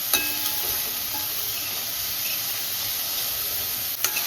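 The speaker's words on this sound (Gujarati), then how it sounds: "હવે આ વેજીટેબલ્સને આપણે થોડીક વાર સુધી ચડવા દઈશું" Chopped vegetables for upma sizzle steadily in a hot pan, a continuous close hiss with a couple of faint clinks of a spoon, no voices.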